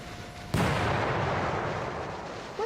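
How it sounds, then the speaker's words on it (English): A sudden loud explosion booms in the horror video game Suffer The Night during a rainstorm, one sharp blast followed by a long, dense roaring rumble that fades slowly, heard alone without talk. "Sounded like an explosion."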